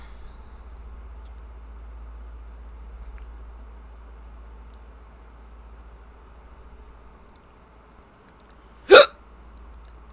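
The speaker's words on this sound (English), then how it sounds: "excuse me for the hiccups" One sharp hiccup pops out near the end of a quiet stretch filled only with a low steady hum and faint background ticks.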